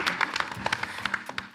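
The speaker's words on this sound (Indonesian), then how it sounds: "Boleh tepuk tangan lagi buat Cherry." Audience applause on the V-Factor Indonesia 2020 talent show stage, heard as scattered, uneven claps in a brief burst with sharp individual hand strikes.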